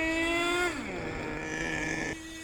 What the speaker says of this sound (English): now it runs and it idles